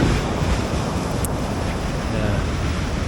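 Ocean surf rolling onto Lennox Head Beach in Australia near sunset, a steady broadband wash of breaking waves mixed with gusty wind buffeting the microphone, loud and continuous throughout.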